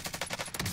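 Call of Duty Cold War Warzone gunfire, a brief fast burst of automatic shots in an even rapid rhythm, moderately loud and heard alone.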